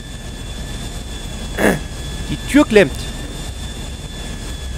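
A jet airplane engine drones continuously in GTA 5 Online on PS3, a steady whine with a high tone running throughout, while someone speaks German over it in short bursts.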